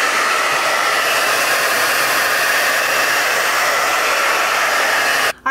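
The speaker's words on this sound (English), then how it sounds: "gonna go right back on with that cool air and we will just continue to dry the hair" A hair dryer blows cool air onto curly hair in a loud, continuous whoosh held at a steady level. It cuts off abruptly at the very end.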